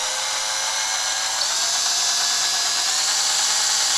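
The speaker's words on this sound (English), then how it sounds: "So what I'm gonna do is take my drill bit." Power drill with a mixing bit stirring plastisol in a bucket for soft plastic fishing baits, a steady high-pitched whine running continuously without pause, close and fairly loud, with no talking.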